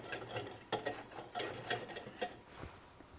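Flour being stirred into 10 grams of melted butter in a pan to start a roux for a sauce, heard as soft, close scraping and clinking strokes in an irregular rhythm, fairly quiet, with no talk.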